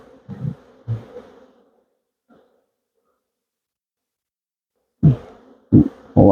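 Honeybees at a farm apiary hive buzz close to the microphone in short, loud bursts, with a near-silent gap between passes.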